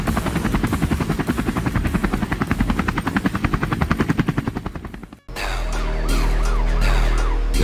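Helicopter rotor chopping loudly and steadily in an animated car cartoon, cutting off sharply partway through into music and other cartoon sounds.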